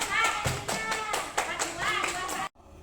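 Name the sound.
children clapping in a classroom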